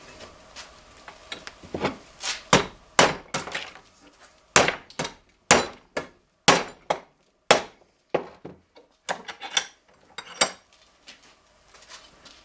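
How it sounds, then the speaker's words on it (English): A hammer strikes a metal mounting bracket to bend it, giving a series of sharp, ringing metallic blows at an uneven, roughly one-per-second pace, close and loud against a quiet background. "I just pulled it back and I whaled it with a hammer"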